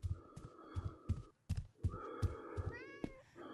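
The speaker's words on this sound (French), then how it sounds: "Oh, il est trop mignon le chat." A cat meows repeatedly in the video game Anomaly Company, with several short, close mews standing out over a steady game soundtrack and a thumping, heartbeat-like pulse.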